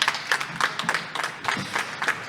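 Small audience clapping on a radio talk show, a brief patter of hand claps in uneven bursts, fairly faint, no talk.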